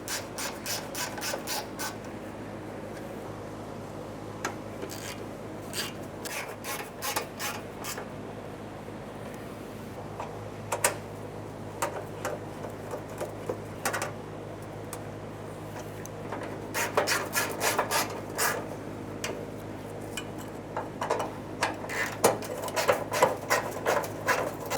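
Screws snugged down one after another on the fuel pump cover of a 1994-1997 Honda Accord, with bursts of small rattling, scraping tool sounds over a steady low hum, busier toward the end.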